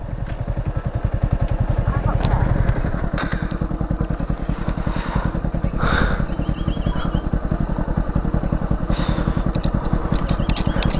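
A motorcycle engine chugs loud and close with a rapid steady throb throughout, along with faint clatter and occasional higher rattles.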